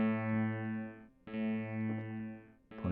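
An electric guitar runs through a Krakli S4 pedal set for a dark analog-style delay, two sustained chords ringing with soft trailing repeats and a new strum starting at the end, alone with no talk.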